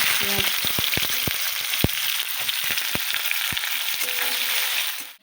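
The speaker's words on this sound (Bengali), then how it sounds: "এখানে গোটা জিরে আর গোটা গরম মশলা শুকনো লঙ্কা ফোড়ন দিয়েছি" Whole cumin, whole garam masala and dry red chillies sizzle in hot oil as a tempering, a dense continuous frying hiss with scattered crackling pops, close and loud throughout before cutting off.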